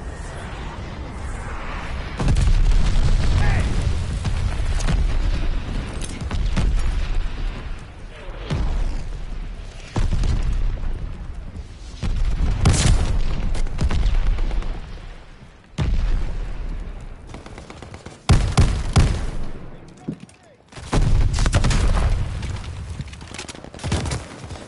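Shell explosions in Call of Duty: Vanguard thunder as loud, deep booms mixed with bursts of gunfire, repeating irregularly through a sustained, chaotic battle.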